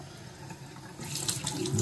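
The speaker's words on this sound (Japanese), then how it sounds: "あったかいお湯になるまでちょっと待たなきゃいけないんだよな。" Warm water runs steadily from a bathroom tap for face washing, a continuous hiss that swells louder about halfway through as the flow strengthens or hands move under it.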